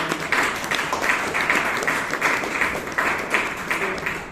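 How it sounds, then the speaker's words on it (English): Audience at a Toastmasters club meeting in Bangalore applauds the club president, with steady, moderately loud clapping from a modest group throughout, some individual claps standing out in a slightly pulsing rhythm. "Let us give a good round of applause to our President Toastmaster."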